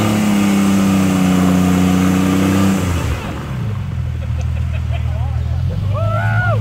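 Off-road buggy with a supercharged Buick 3.8 V6 on an extreme 4x4 canyon trail, engine droning loud and steady then dropping in pitch and revving on, with faint distant voices later.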